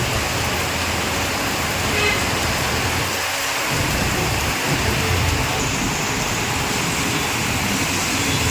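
Sudden pre-monsoon rain over Dhule city, a steady dense hiss of rainfall heard continuously throughout, with a dull low thump near the middle.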